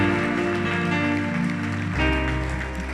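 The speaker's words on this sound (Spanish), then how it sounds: "Dale un fuerte, fuerte aplauso al Señor." A church congregation applauds loudly during a Spanish-language service, steady crowd clapping blended with sustained organ or keyboard chords that swell near the end.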